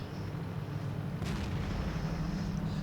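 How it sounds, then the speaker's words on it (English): A Jagdtiger tank's main cannon firing at artillery while moving in World of Tanks, a single sharp boom about midway over a steady low engine rumble. "So I fire at the artillery on the move and miss"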